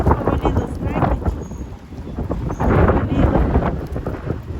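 Strong, gusting wind roars around a rural yard during a storm, buffeting the microphone in surging waves that rise and fall loudly throughout.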